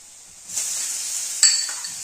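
Chicken pieces drop into a hot pan with capsicum while cooking noodles. A bright, hissing sizzle flares up after a quiet start and holds steadily, with a sharp metallic clink partway through.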